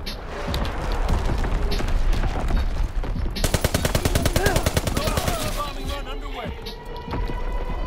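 Bombing strike and gunfire in Call of Duty WWII during a Team Deathmatch on the Aachen map: sustained loud gunfire with rapid automatic bursts and heavy impacts from an incoming bomb, with voices calling out over the battle.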